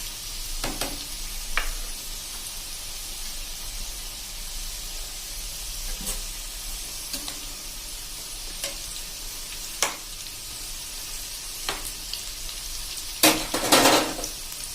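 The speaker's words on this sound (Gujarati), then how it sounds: "આપણે આને ફૂલ ફ્લેમ ઉપર જ તળવાના છે" Okra fritters (bhajiya) sizzling steadily in hot oil over full flame, with occasional clinks and stirring scrapes, and a louder burst of crackling near the end.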